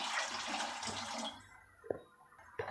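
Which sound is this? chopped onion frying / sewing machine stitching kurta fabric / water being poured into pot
water being poured into pot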